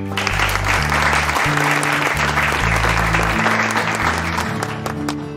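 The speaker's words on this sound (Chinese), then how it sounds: "大家掌声鼓励" Loud, steady applause fills a room as student performers come onstage for a drama audition, many hands clapping continuously over low background music.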